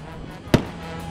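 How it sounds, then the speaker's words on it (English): A single sharp firework bang at a winter weekend festival's closing display, loud and close against a steady outdoor background hum. "The fireworks. Just a nice ending to a fun-filled weekend."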